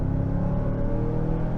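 A 2022 Mazda CX-9 crossover engine accelerating at part throttle gives a steady, close, droning hum with a low rumble that holds even throughout, with no talking.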